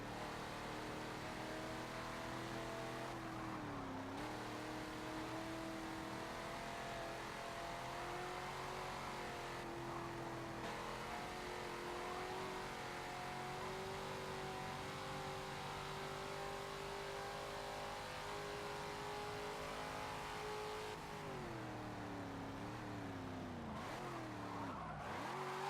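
Race car engine in Forza Motorsport 7 held at a steady, loud drone while drifting, with a droning pitch that dips and swells as the throttle and tires shift, ending in a sharp revving sweep near the close; no talk.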